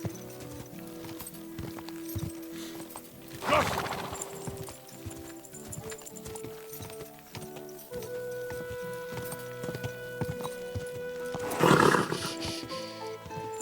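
Hooves clip-clop steadily in a Kingdom Come: Deliverance 2 scene, with two louder snorting bursts from a horse and background ambience.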